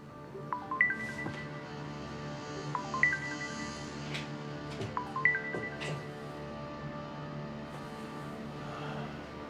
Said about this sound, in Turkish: Telefon aç.